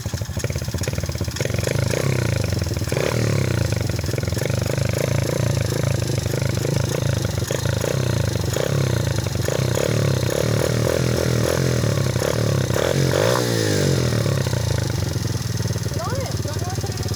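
A new dirt bike's engine revs and sputters nearby, rising and falling in repeated bursts with clattering, while people talk over it.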